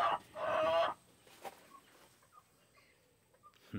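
Chickens in a coop and run give a loud burst of squawking clucks up front, then quieter scattered clucks and soft calls trail off over a few seconds, with no voices.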